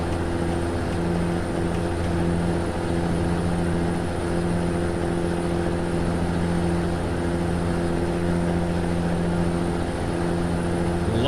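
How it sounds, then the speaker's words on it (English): A Peterbilt 359 truck engine in American Truck Simulator cruising on the highway gives a steady, droning hum with strong even tones that hold unchanged for the whole stretch. "Love the sound of this truck, man."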